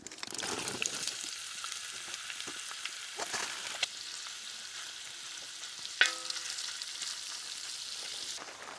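Fatty meat sizzles and crackles steadily in a hot plow disk pan at a rainy campsite, with occasional stirring scrapes and a brief clink partway through.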